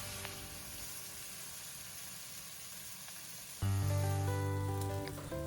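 Slices of spam sizzle in a pan as sauce is added for glazing, a steady soft frying hiss that turns louder and fuller partway through, with no voices.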